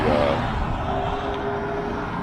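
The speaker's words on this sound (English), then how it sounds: "Hear all these cars going by" Steady traffic rumble from cars passing on a nearby road, a continuous, fairly loud wash of engine and tyre noise with no clear gaps between vehicles.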